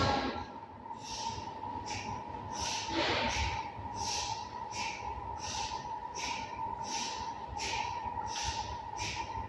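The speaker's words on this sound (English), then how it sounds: "a strong exhale. Really pull the belly button towards the spine, and as you breathe out" Rhythmic, forceful breaths pushed out through the nose during a yoga breathing exercise, about a dozen sharp exhales in an even quick pulse, close and moderately loud over a steady background hum.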